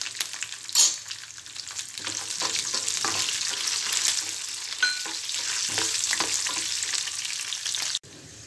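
Tempering seeds, dried red chillies, green chillies, roasted gram and peanuts frying in hot oil for garlic chukkakura pulusu, a steady close sizzle and crackle with a few sharp pops, alone, ending abruptly.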